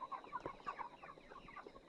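Sonali and broiler chickens clucking together inside a poultry shed, a soft, busy chatter of overlapping short clucks from many birds at moderate distance, quiet overall with no talk.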